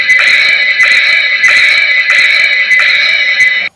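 A horse whinnies as an audio drama sound effect, a loud, bright, shrill neigh that pulses in several quick bursts one after another, up close and alone, cutting off abruptly at the end.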